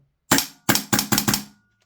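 A Lambda Defence GHM9-G gas airsoft pistol fires four loud, close, snappy shots, the first alone and the last three in quick succession.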